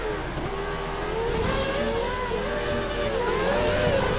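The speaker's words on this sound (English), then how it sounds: "Oh, drifting as we come out the last corner." A 1990s Formula 1 race car in the F1 2013 game drifts out of the last corner at Catalunya, its engine droning loud and steady with wavering pitch as the wheels spin.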